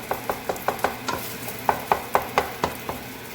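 A spatula stirs and mixes SPAM fried rice in a frying pan, with about a dozen quick, evenly spaced scrapes and clinks up close over a soft sizzle, and no one speaking.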